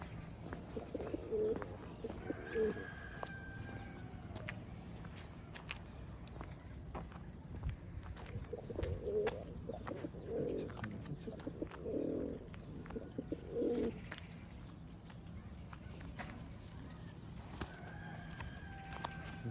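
Mardin smoky tumbler pigeons give several soft, low coos at uneven intervals, fairly close, over a steady outdoor background hum.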